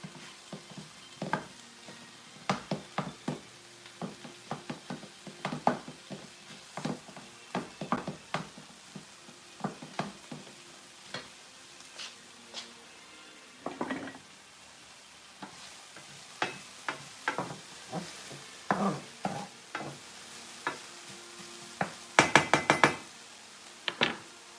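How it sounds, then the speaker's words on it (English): Sausage browning in a pan while stuffing is made, with a low steady sizzle under many sharp knocks and scrapes from a utensil against the pan, coming in irregular bursts and clusters throughout. "we're just going to let this sausage cook and brown up"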